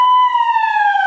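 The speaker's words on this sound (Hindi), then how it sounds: "घर के अंदर हैं और आपको सायरन की आवाज सुनाई दे, जिस प्रकार से सायरन बज रहा है," A warning siren sounds for disaster drill training, holding a loud, steady whining tone that sags slightly in pitch over about a second.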